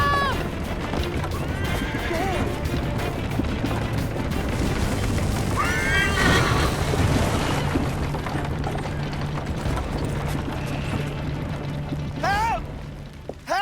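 A horse whinnies several times over the steady clatter of galloping hooves, loud and busy, with occasional shouting voices mixed into the game action in Assassin's Creed III Liberation Remastered.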